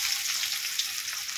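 Onion going into hot oil with cloves, cinnamon, cardamom and bay leaf for egg korma, giving a continuous bright hiss and crackle that stays even and close throughout.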